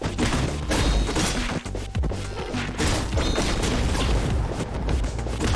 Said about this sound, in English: a new item called the Molotov that creates explosions.